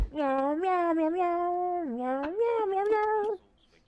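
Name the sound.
voice imitating a cat meowing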